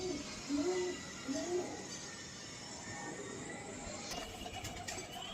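Pet pigeons kept for flying at a breeder's home coo softly in a few low, rounded bursts over the first two seconds, then a quiet background hum and faint clicks take over.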